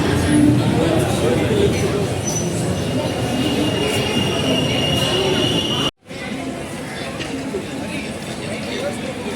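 Jan Shatabdi Express hauled by a WAP-4 locomotive arriving at a platform, with steady rolling rail noise and squealing wheels close by, a brief cut midway, then continued clatter.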